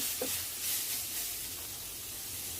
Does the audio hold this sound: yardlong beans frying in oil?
yes